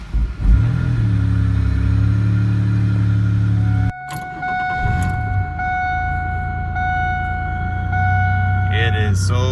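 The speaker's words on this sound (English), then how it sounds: "an audio of the car once the new pipe was on" A 2002 Pontiac Grand Prix with the 3800 Series II engine idles with a newly replaced exhaust pipe, a steady low drone that cuts off abruptly, then resumes after a short gap with faint tones above.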